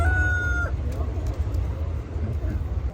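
A rooster crows once, briefly and fairly close, at an outdoor livestock and poultry market in Mulvane, Kansas. A low rumble of crowd noise and scattered chicken clucks continue underneath.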